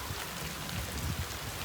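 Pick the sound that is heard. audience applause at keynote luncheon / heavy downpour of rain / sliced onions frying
heavy downpour of rain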